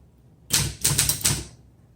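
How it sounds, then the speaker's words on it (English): Rapid keystrokes on a 1974 Olympia SM8 manual typewriter, a close burst of about five crisp clacks lasting roughly a second, with quiet before and after. "I can tell so much better when I'm actually typing a sentence"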